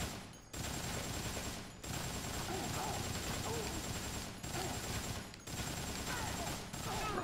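Gunfire in the Dead Rising video game: a sustained, fairly faint run of rapid shots with a few brief pauses, steady and dense throughout.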